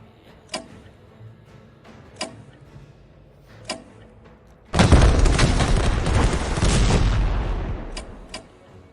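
Gunfire in the WW1 strategy game Strategic Command: three sharp isolated shots crack at even intervals, then a loud, dense burst of sustained firing and booms roars for about three seconds before two more single shots close it out.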